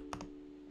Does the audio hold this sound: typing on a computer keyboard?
yes